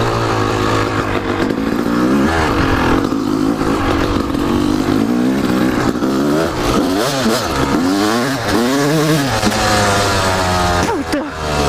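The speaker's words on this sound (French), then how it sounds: "déjà le son du 2 temps, ça fait plaisir à entendre" A two-stroke 250 YZ enduro motorcycle engine revving hard on a trail ride, loud and close, with a buzzing, rising and falling pitch through repeated accelerations, and a rider's voice briefly heard over it.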